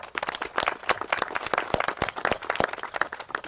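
Applause at a commemorative event, with a modest group clapping in distinct, fairly close individual claps that overlap at an uneven rhythm, alone with no talk.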